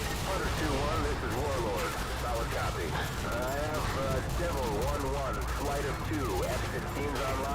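Continuous video game gunfire and explosions rumble as a dense, steady barrage in the background while people talk over it throughout.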